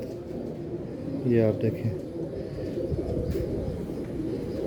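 Pet pigeons from a breeder's loft, including a Dabwali hen, give a short, soft cooing call partway through. Someone talks over it with constant background noise from the loft.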